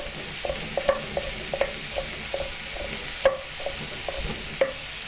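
Vegetables including sliced red capsicum sizzle steadily in a hot pan for a teriyaki beef stir-fry, with repeated light clinks of a utensil stirring against the pan, close and without talk.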